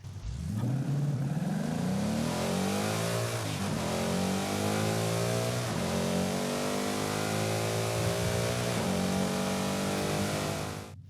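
Ford Mustang Dark Horse V8 in Forza Horizon 5 revs up from idle in a rising roar, then holds and blips at high revs in a loud, sustained, close engine sound with no talking.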